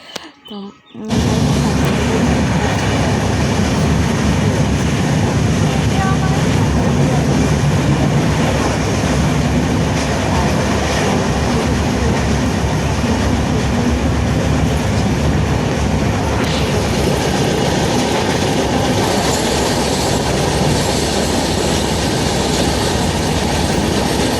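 Passenger train in motion, a loud continuous rumble and rattle of the rail carriage with a faint rhythmic clatter of wheels running for the whole stretch, after a brief quiet moment at the start; voices are faintly present beneath it.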